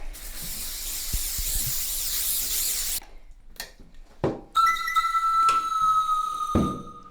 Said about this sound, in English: first we need to spray the pan